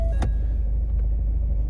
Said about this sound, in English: So I can just dip the clutch and press the button there and it starts.